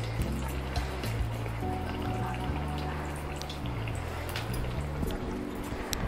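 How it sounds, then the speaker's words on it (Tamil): Liquid is poured into a pan while making carrot halwa, producing a soft, continuous trickle and splash close by, faint under a low background hum. "அதனால் நம்ம ஒன்றாவே ஊற்றி எடுத்துக்கலாம்."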